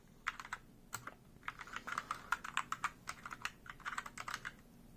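Quick bursts of typing on a Velocifire M1 TKL61WS Bluetooth keyboard, keys clicking in uneven runs with brief pauses, close and clear in a quiet room.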